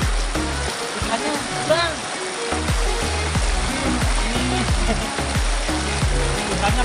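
A small river stream at the border of Sumedang and Garut, West Java, flows with a steady, close rushing wash throughout, under someone talking loudly in the foreground.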